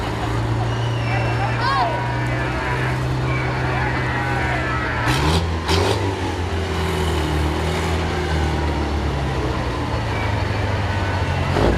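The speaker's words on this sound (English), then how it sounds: "Dodson Trucking in an old truck." An old truck from a trucking company rolls past in an Independence Day street parade, with a steady low engine drone throughout and a brief louder burst midway, while a crowd murmurs and voices carry nearby.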